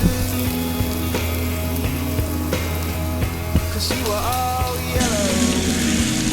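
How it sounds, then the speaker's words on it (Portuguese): Chopped onion sizzling in olive oil in a cooking pan for chicken risotto, a close, continuous crackle with clinks of stirring and a brief louder hiss near the end. "Dá uma fritada na cebola."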